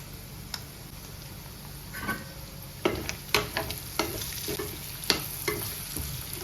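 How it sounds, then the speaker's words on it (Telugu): Prawns frying in a pan in Nigeria give a quiet sizzle broken by a run of sharp taps and scrapes as they are stirred, with no one talking. "ఒక ఫైవ్ మినిట్స్ మనం ఇలాగ ఫ్రై చేసుకున్న తర్వాత కారం యాడ్ చేయాలండి"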